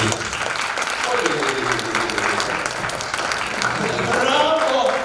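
A theatre audience at a Russian awards ceremony for young actors and actresses claps steadily after a performance, a dense, continuous patter of applause with voices faintly mixed in.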